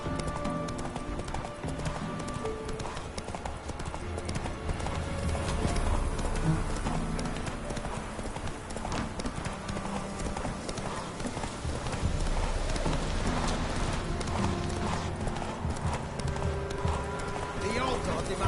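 Roach, Geralt's horse in The Witcher 3, gallops with steady, fast hoofbeats over game music and ambience, with a short whinny mixed in and voices talking over parts of it.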